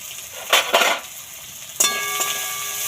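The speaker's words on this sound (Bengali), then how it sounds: "এই তেলের মধ্যেই প্রথমে দেব রসুন কুচি দেব পেঁয়াজ কুচি দেব আদা কুচি" Chopped garlic, onion and ginger drop into hot oil in a pan, two bursts of sizzling followed by a steady fry and a metallic clink of a utensil against the pan, close and loud.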